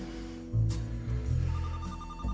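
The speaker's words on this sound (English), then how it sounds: "Who's phone calling me?" A telephone rings close by indoors with a bright, repeating electronic tone over a low background hum.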